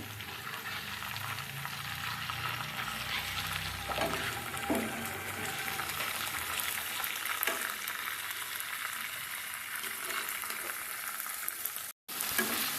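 Onion paste frying in a pan while being stirred, a continuous loud sizzle with occasional scraping knocks from the stirring and a brief dropout near the end.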